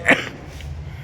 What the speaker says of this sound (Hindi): बस यार खांसी आ रही है